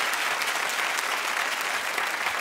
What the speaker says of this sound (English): Clap if you're with me.